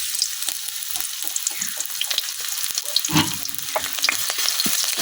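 Onions fry in oil in a wok, giving a steady close sizzle peppered with sharp crackles and spoon or spatula clicks throughout, with no talking.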